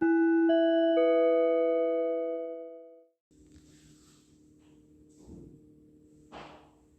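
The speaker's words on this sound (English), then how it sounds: "That's the sound of the elevator" A clear two-tone elevator chime rings out loudly and decays over about three seconds, followed by quiet room hum with a couple of soft thumps and rustles.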